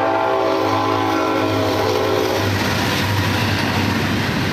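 A train rumbles past close by, a loud continuous roar with steady rolling rail noise and a low droning tone that fades into broadband clatter.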